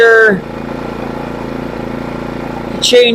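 An iPower 4300-watt portable generator runs at high idle, a steady, close mechanical drone with a rhythmic engine pulse, bracketed at the start and end by brief louder sounds.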